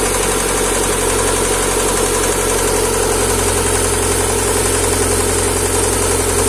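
An engine controlled by a Speeduino ECU idles loudly and close, a dense, steady rumble with constant vibration and no voices.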